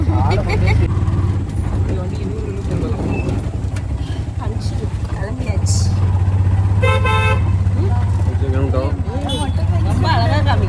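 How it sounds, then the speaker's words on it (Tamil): Busy road traffic as school lets out, with engines and motorcycles droning close by and several short car horn toots cutting through, while people talk over the noise. "எல்லா ரோடுமே டிராஃபிக்"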